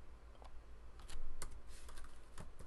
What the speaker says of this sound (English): and started typing in some text